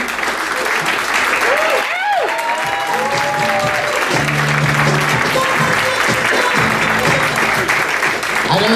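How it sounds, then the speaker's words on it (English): A stand-up comedy club audience applauding the host and staff, dense continuous clapping that holds steady and loud across the whole stretch, with a few voices and whoops rising above it. "Let's give an applause to Dean Delray, our host, and also the staff here"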